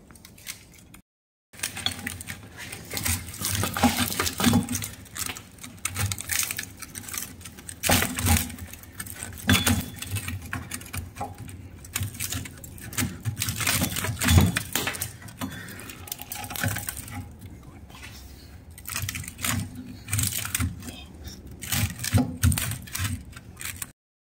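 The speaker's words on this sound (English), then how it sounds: "I'm just gonna fatigue the metal and get rid of this thing" Rusty metal on a Chevy S10 rear axle being worked back and forth until it fatigues, giving a steady run of close metallic clinks, rattles and scraping knocks for over twenty seconds, with no talking.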